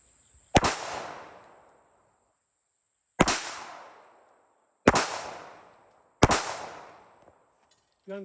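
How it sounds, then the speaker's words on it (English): Four sharp, loud 9mm gunshots from a full-size Glock 17 fired outdoors into a meat target, spaced unevenly a few seconds apart, each with a ringing decay. "We're still doing 9mm out of the full-size Glock 17."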